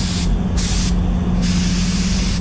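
A spray gun lays a second coat of PPG LVC-105 clearcoat on a BMW X5 at a body shop, a loud, close, steady hiss with two brief bursts of sharper airflow, no talking.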